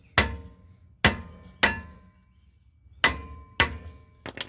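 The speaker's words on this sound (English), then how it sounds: "you can try just hammering on the sides" Hammer striking the sides of a stuck rear brake rotor on a 2019 Infiniti QX60 3.5L, six sharp metallic bangs at uneven intervals, each ringing briefly before dying away.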